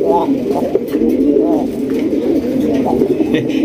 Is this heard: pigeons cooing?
yes